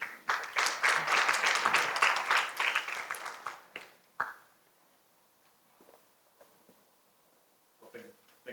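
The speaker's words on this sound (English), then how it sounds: "Let's give them a warm applause." Audience at a semiconductor and national security forum in Taiwan giving the moderator and panel a welcoming round of applause, dense clapping for about four seconds that tapers to a few final claps, then near quiet with faint room sounds.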